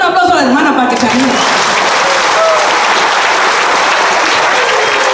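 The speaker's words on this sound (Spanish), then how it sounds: "Denle un aplauso a la hermana para que se anime" A church congregation breaks into loud, dense applause for a sister, a voice speaking briefly at the start before the clapping swells and holds as a steady roar of many hands.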